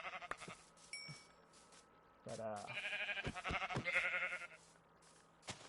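Sheep bleating in a video game, a few nasal bleats at moderate distance over faint background ambience, with a brief spoken word early on.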